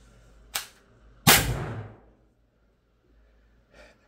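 An HDR68 home-defence gun fires a resin slug at close range; a sharp crack is followed by a louder, nearer pop with a brief decaying tail, then quiet and a faint rustle.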